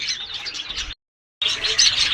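White budgerigars kept in breeding cages chirp and twitter in a busy, continuous chorus, broken by a short silent gap before the chatter resumes.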